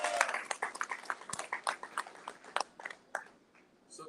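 Applause from an audience at the Island SPACE Caribbean Museum in Jamaica: a thin, scattered patter of hand claps that stays sparse and uneven, then tapers away toward the end.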